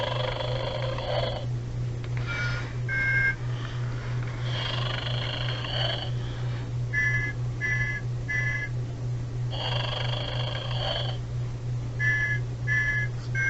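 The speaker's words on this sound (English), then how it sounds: "when you switch them on, they snore and whistle jingle bells" Battery-powered Telco toy Santa Claus figure in bed, alternating slow snoring rumbles with bursts of whistled Jingle Bells melody over a constant electric hum, close and fairly loud.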